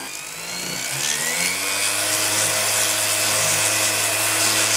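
An electric Duro Pro D-ES 125 mm random orbital sander runs steadily nearby, its motor whine climbing in pitch as it speeds up and then holding a constant loud drone with no talking.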